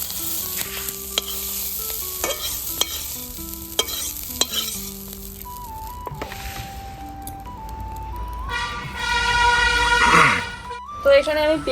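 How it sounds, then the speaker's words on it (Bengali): Chopped onion, garlic and two green chilies sizzle in hot oil with a black cumin tempering, a loud frying hiss with stirring clatter, while tonal musical notes play over it. "এখানে আমি পেঁয়াজ কুচি আর রসুন কুচি আর হচ্ছে 2টা কাঁচা লঙ্কা দিয়ে দিলাম কালো জিরা ফোড়ন দিয়ে।"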